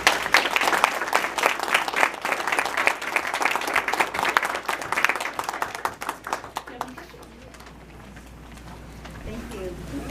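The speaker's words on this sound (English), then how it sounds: "if we could give them one more round of applause" Sustained round of audience applause at a school board meeting, dense clapping from many hands filling the room for several seconds before thinning out and fading into quiet room noise.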